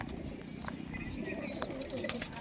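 Punjabi Malwahi pigeons coo in a home loft, low rolling calls under a noisy room with a few brief sharp clicks and rustles.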